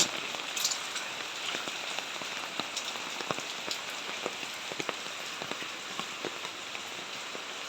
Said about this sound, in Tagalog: So, malakas na talaga yung ulan.